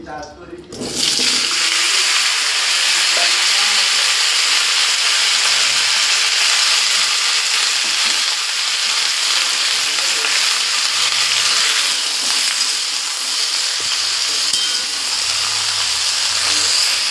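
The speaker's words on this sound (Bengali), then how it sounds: "এই যে এঁচড় কেটে নিয়েছি আর এই যে আলু কেটে নিয়েছি। এগুলোকে ঘি দিয়ে ভেজে নেব।" Cut jackfruit and potato frying in ghee in a wok, a steady, close, broadband sizzle that starts abruptly after a second and holds loud and even throughout, with no talking.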